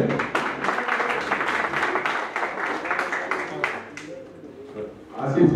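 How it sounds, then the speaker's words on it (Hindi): Applause from an audience at a BJP party office in Delhi as new members join the party, a dense burst of clapping for about four seconds that thins out, with voices underneath. "जोरदार तालियां आज इस ज्वाइनिंग के लिए"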